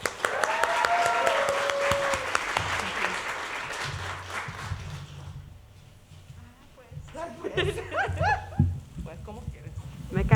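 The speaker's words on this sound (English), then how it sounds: "Please give a round of applause" Applause from an audience at a Two Spirit artist showcase welcomes a speaker to the stage. It rises loud at first and fades, and then talk and other voices take over.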